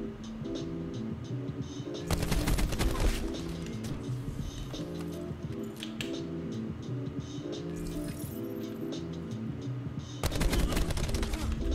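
Rapid automatic gunfire in the video game Call of Duty: Black Ops 4, dense rattling bursts running through with louder flurries near the start and end, mixed with game ambience and no clear talk.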